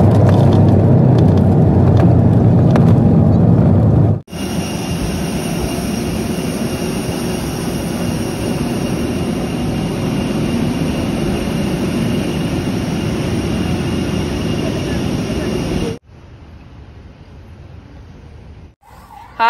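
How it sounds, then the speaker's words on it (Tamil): A passenger airplane that has just landed at Coimbatore rumbles loudly at close range, first a heavy low roar and then a steady broadband whine with a high tone that ends abruptly. "இப்போ பார்த்தீங்கன்னா கோயம்புத்தூரில் லேண்ட் ஆயிடுச்சு ஃப்ளைட்டு"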